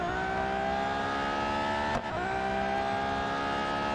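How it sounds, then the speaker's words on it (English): Racing car engines at Silverstone in the mobile game Real Racing 3, a continuous loud, high-pitched engine whine with layered harmonic tones and a brief dip near the middle as the revs shift. "listen to the engines"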